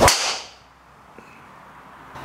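A golf driver, either a Callaway Rogue ST Max or a Ping G425 Max, strikes a ball with one sharp, loud crack that rings briefly and fades into quiet outdoor ambience.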